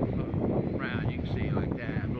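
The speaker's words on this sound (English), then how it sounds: "It was windier, but it's still pretty windy." Strong wind roars steadily across the microphone at a ferry port on a stormy day, a constant buffeting rush with someone talking over it.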